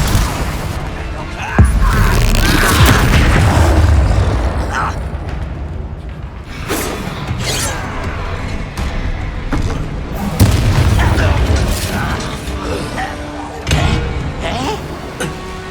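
Spell explosions in the Hogwarts Legacy video game, a series of loud booming blasts with crackling debris and mechanical clanks over a busy combat soundscape, voices calling out amid the fighting.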